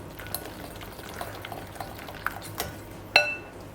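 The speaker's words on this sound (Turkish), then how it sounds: "Tamamen pürüzsüz olana kadar çırpıyorum" A whisk beats an egg yolk, flour and water mixture in a bowl for lentil soup, making light, close, irregular ticks and clinks with one sharper metallic clink near the end.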